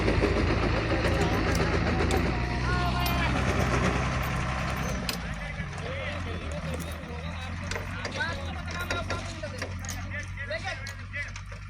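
A heavy truck engine rumbles loudly and steadily as it pulls away after its tyre slipped into a roadside canal, with people talking over it and some clanking in the background.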